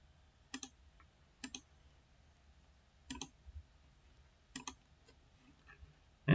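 Sharp, faint mouse clicks at a computer, five or so isolated single and double taps spaced irregularly over a quiet background.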